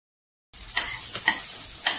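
Whole masoor lentils, washed beforehand, sauté in spiced oil in a pan, giving a steady close fry-sizzle broken by three light stirring scrapes after a brief silent start; no voices.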